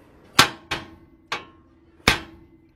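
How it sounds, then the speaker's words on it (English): A small dead blow hammer strikes a mechanical part to loosen it through vibration: four sharp, close knocks at uneven intervals, each ringing briefly before fading. "all you got to do is hit it with the little dead blower hammer right here."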